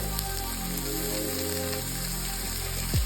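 Pieces of banana stem sizzle steadily in a hot pan, a dense, even crackling hiss that carries on unbroken and close by.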